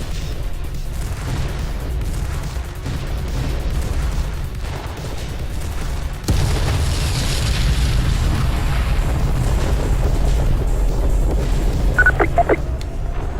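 The Shivan destroyer Dagon breaks apart in the space combat game Freespace 2, a long, loud, rumbling explosion that swells suddenly and keeps roaring, with a few faint beeping tones near the end.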